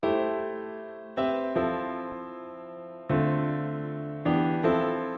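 Piano chords played alone, each sustained and slowly fading before the next is struck, five chord changes at an unhurried pace.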